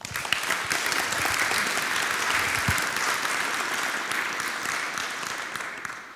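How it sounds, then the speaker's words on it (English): Sustained applause from a conference audience at a Python programming talk, a dense steady wash of many hands clapping at moderate volume for the whole stretch with no voices over it. "So a big round of applause, please."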